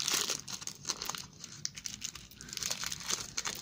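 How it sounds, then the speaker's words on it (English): Foil packets of Panini football cards being ripped open from a Polish mini tin, close crinkling and tearing rustles in quick irregular bursts, fairly soft and with no voices. "Here's our four packets. Let's rip it."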